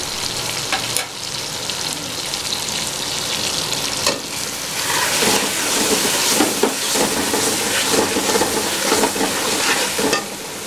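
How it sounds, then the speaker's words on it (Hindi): Chicken frying in a pan with red chilli, salt, turmeric, garam masala and korma masala, a steady close sizzle with stirring scrapes and bursts throughout, no talk. "अच्छे तरीके से फ्राई करेंगे।"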